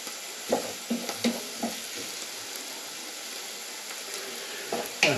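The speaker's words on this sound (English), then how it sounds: "I need to cook these onions down to about 5-6 minutes to a nice and translucent cook" Onions soften in melted butter in a pan, with a soft, continuous sizzle and a few close stirring scrapes and taps, and no one speaking.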